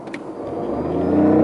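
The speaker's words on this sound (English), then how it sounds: "What happens if I floor it in comfort?" A BMW i8 floored in comfort mode, the engine note rising steadily in a short, close acceleration with no talk over it.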